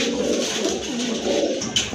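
A pair of pigeons for sale coos in a soft, continuous, rolling murmur, close and steady, with no voices.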